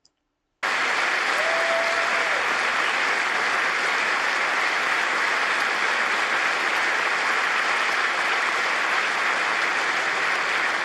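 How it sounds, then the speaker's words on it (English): Members of the US Congress applauding while standing, a thick, continuous roar of clapping from a large chamber crowd that starts suddenly after a brief silence and holds steady and loud to the end. "All these people here, clapping and standing up,"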